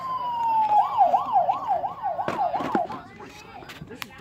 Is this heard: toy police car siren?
yes